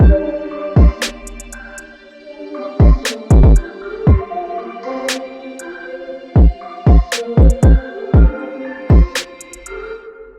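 Punchy kick drum hits in an FL Studio beat, with the high end and low end cut by EQ, thumping in an uneven pattern alongside other beat elements, loud and close.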